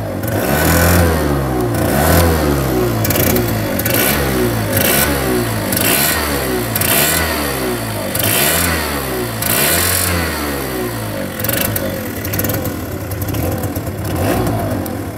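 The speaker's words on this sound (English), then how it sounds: "This is the exhaust sound." A small Keeway F-ACT NKD scooter engine's exhaust revs up and down repeatedly in a rhythmic cycle, loud and close, rising pitch sweeps with each throttle blip.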